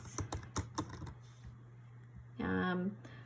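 Rapid keystrokes on a computer keyboard while entering text into a Zoom whiteboard text box, a quick burst of taps at the start over a steady low hum, then a short spoken word near the end.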